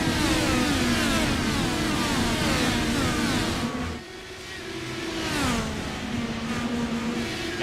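Race cars in the iRacing sim at Iowa Speedway roar and rev at high speed, a dense loud engine drone with pitch rising and falling as the pack accelerates, dipping briefly midway before building again.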